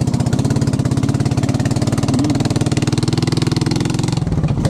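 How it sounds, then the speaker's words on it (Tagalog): A motorcycle engine runs steadily at close range, a loud, even, throbbing idle with a fast regular pulse that holds constant throughout. "Kaya sayo-sayo ang motor ni Mario"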